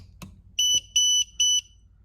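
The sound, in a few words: gas detector alarm beeping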